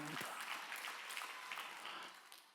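A church congregation applauding during a Sunday worship service in Incheon, a steady, dense wash of clapping from many hands that carries on for a few seconds and then begins to fade.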